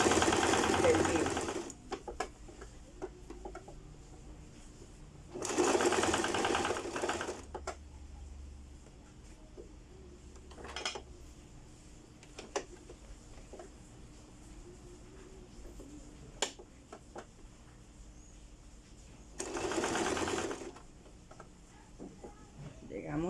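A sewing machine stitches piping onto the princess-seam bodice in several short bursts of fast rhythmic needle rattling, separated by quieter gaps with small handling clicks and a little low talking.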